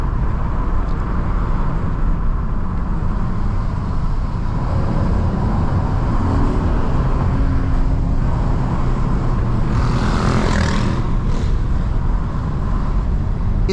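Steady low exhaust drone from a 2019 Acura TLX A-Spec while driving on an open road, a continuous loud rumble with road and tire noise underneath and a brief swell partway through.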